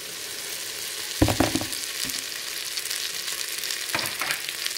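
Coarsely ground wheat roasting in ghee with cardamom and cinnamon in a pan on high flame, a soft continuous sizzle with a few brief scraping stir strokes, close and alone with no talk.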